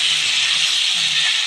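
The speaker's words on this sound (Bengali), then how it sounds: "আলু আর কাঁচকলাটা ভালো করে ভেজে নেব।" Potatoes and raw green banana frying in a pan give a steady, even hiss of oil that holds without a break for the whole moment.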